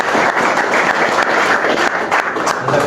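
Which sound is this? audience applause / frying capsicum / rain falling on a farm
audience applause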